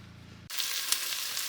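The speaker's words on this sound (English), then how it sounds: "our vegetables have started to saute" Vegetables hit hot oil in a pan for a white chili and start sautéing, a steady broadband sizzle that jumps in abruptly after a low hum and holds loud and even, with one brief crackle.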